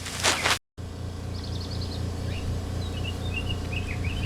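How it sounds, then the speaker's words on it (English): Birds singing outdoors in spring, light chirps and short trills heard faintly in the background over a steady low engine-like hum, after a brief loud burst at the start. "If you listen to those birds in the background"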